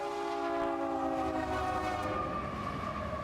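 A train rolls past the village of Potter, Nebraska, its horn sounding a loud, sustained chord that breaks off midway while the heavy rumble of the passing cars carries on steadily.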